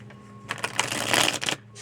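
A new deck of tarot cards is riffled in a quick burst of crisp flutters, close and fairly soft, after a brief quiet lead-in.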